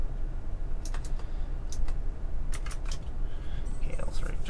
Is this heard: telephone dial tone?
no